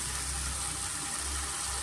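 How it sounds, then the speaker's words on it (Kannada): A steady, continuous rush of water being poured into a pan of mushroom pepper curry, even and unbroken, close by with no talking. "ಇವಾಗ ಇದಕ್ಕೆ ಸ್ವಲ್ಪ ನೀರು ಸೇರಿಸ್ಕೊತಾ ಇದ್ದೀನಿ"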